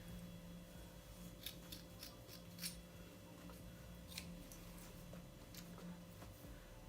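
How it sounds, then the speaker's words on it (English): Scissors trim 20-inch deep twist crochet braid hair to an even length. Faint, scattered snips sit over a low, steady background hum. "I'm just going to keep cutting until it's completely even"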